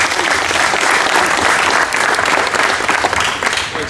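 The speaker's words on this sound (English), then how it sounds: "So everybody give a round of applause to Byron." Loud, sustained applause from a crowd at a father-child basketball camp as a former player and coach is introduced, thick even clapping with no speech over it.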